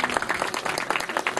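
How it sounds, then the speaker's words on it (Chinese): An audience applauds at the opening ceremony of a high school baseball invitational, producing a short, dense spatter of many hands clapping at a steady level. "掌声感谢他们带来的表演。"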